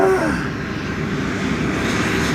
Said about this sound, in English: Transavia flight 5806 is arriving from SKG.